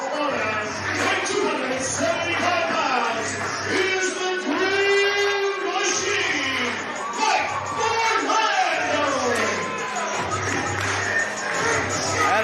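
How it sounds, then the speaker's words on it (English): PPW wrestling crowd before the Mike Orlando vs. Alexander Hammerstone match, stomping and clapping in a steady, repeating rhythm that fills the arena, with crowd noise and shouting layered over the beat throughout. "We're about to hear some stomps and claps from the PPW Nation."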